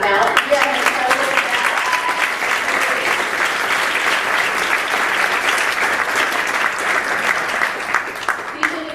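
Enthusiastic applause from an audience for the Demos staff, a steady, dense wash of clapping that stays loud and even throughout.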